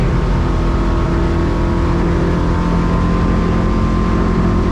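A 2025 Stabicraft 2500 Ultracab XL boat running on a single outboard motor, a loud, steady engine drone with rushing water and wind throughout and no voices.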